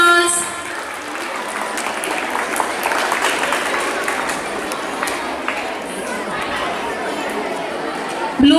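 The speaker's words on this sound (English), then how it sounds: "Children, please give them a big round of applause." Schoolchildren at a National Sports Day mini marathon clap for the class 5 winners, a sustained spread of applause mingled with lively crowd chatter throughout.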